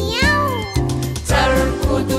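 A cat meows several times in succession, loud and close, over a tuneful musical backing from a children's song.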